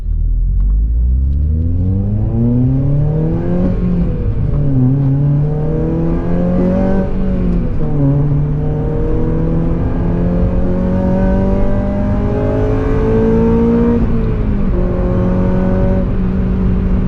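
Honda Civic Type R engine pulling hard through the gears on a highway, a rising, whining rev climbing repeatedly with VTEC engaging around 5,500 rpm, each climb dropping at a shift, loud and steady from inside the cabin, no voices.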